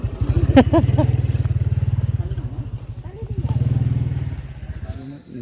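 A motorcycle engine putters close by with a rapid pulsing rhythm, rising and easing as it moves, while people talk over it.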